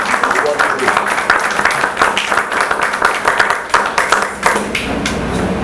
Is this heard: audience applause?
yes